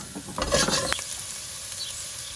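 A brief burst of crackling sizzle as garlic drops into hot oil, loudest at first and then settling into a soft steady fizz.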